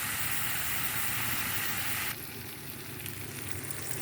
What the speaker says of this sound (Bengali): আমার মাছ কষানো শেষ।